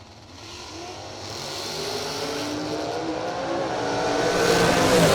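A Camaro drag car launching at a drag strip, its engine roar building steadily louder and higher as it accelerates away, heard from a distance with no talk.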